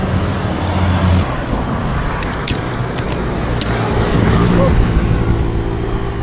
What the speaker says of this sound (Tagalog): Mabibilis po yung mga sasakyan dito eh.